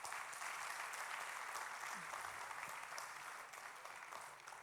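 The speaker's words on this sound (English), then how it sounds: "I think they deserve a big round of applause." Steady audience applause for a student panel at a youth summit, a quiet, even wash of many hands clapping that holds for several seconds and thins a little near the end.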